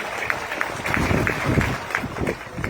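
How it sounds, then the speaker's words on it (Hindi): An audience at a Lav-Kush birth anniversary function in Bina, Sagar applauds to welcome a local leader, a steady dense wash of many hands clapping at moderate distance throughout. "मैं आप सभी से निवेदन करना चाहूंगा कि जोरदार तालियों के साथ उनका स्वागत करें।"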